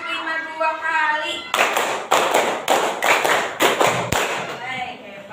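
A primary school class in Bandung claps together in counted rhythm, bursts of sharp, loud group claps repeated in quick sets, with a voice talking before and between the rounds.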